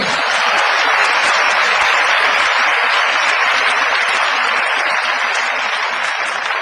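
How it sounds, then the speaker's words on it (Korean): Dense, steady applause from a lecture audience at Chungnam National University, greeting Roh Moo-hyun as a presidential candidate. The clapping is loud and continuous, filling the whole stretch without a break. "박수 한번 치는 겁니다. 이럴 때는."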